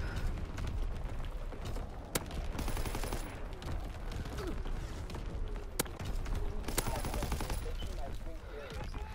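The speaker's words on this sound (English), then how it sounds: "I got that artillery barrage" An artillery barrage in the Call of Duty: WWII video game: dense, continuous booming and rattling gunfire with a couple of sharp cracks standing out, while players talk over it.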